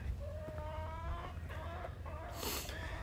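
Laying hens on a farm clucking and squawking close by, several overlapping calls with a sharper burst near the end, over a steady outdoor background.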